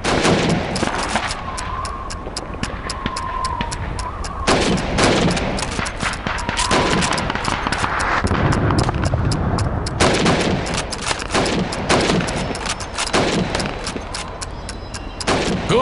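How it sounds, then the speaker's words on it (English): Rifle fire rings out during a timed helmet-shooting drill on a training range in the Call of Duty 2 video game: loud, rapid repeated shots with short gaps, close and dense throughout, with only faint voices. "You have 15 seconds to shoot the helmets."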